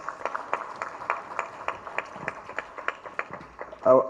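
An audience at the Pearl of Africa Tourism Expo 2023 claps for the chief guest: a fairly quiet, evenly paced run of handclaps that ends with a brief louder burst.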